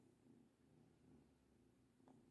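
A cat purrs softly and steadily, a low rhythmic rumble heard close but faint, ending with a brief louder sound.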